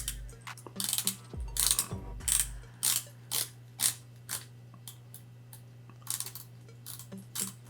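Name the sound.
watch bezel rotating and ratcheting, Borealis Estoril dive watch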